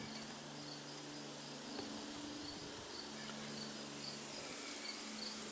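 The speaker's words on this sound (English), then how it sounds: "Boy, the bugs are out today, ain't they? Look at them flying around." Insects buzz and chirp outdoors around a small riding mower, a steady high-pitched droning hum with faint cricket-like trills, moderately soft and unbroken, with no voices.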